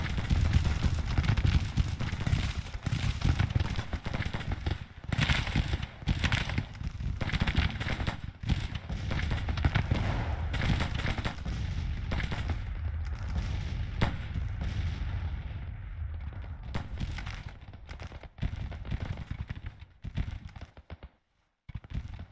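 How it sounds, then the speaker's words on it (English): Artillery batteries in a Civil War strategy game fire counter-battery volleys, a continuous rolling barrage of booms and cracks that stays loud and dense before thinning into scattered shots near the end. "I'm gonna set these guys to counter battery fire"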